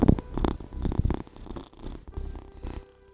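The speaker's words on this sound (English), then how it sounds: "Hope everyone can hear that. That's my sister's cat Leonard." A pet cat named Leonard purrs close to the microphone, a deep rumbling purr in rhythmic pulses that swell and fade with each breath.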